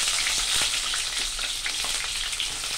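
Coarsely chopped onion frying in hot oil for a simple fried rice, a dense, even, close sizzle with faint crackles running steadily throughout and no speech.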